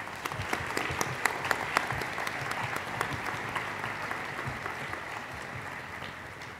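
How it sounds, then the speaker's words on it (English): At an evening installation ceremony, an audience claps in a steady, fairly faint round of applause with a few sharper claps standing out early, continuing evenly throughout. "Let's give them another round of applause."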